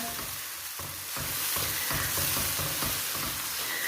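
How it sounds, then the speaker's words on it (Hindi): Food fries in a pan for a dish of eggs and peas, a steady broadband sizzle with periodic stirring scrapes and knocks, growing a little louder midway, close and continuous with no voices. "तो चले 2 मिनट के लिए इसे भी फ्राई करते हैं"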